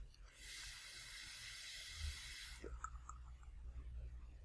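Vaping draw on a Marquis RDA rebuildable dripping atomizer with its airflow hole about half to a third closed: a steady breathy hiss lasting roughly two and a half seconds, then a few faint clicks and soft mouth sounds.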